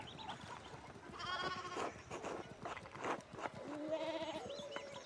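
Sheep bleat in the video game Pentiment, several near bleats rising over a busy farmyard background.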